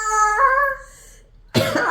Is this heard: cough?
yes